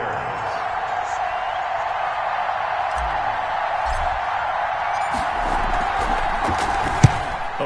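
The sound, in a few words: crowd cheering in an American football video game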